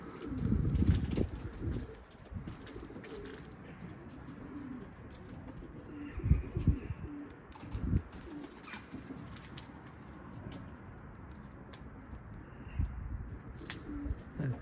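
Pigeons in an office coop coo in low, repeated rolling calls, some close and loud, with occasional wing flaps and rustling between the bursts.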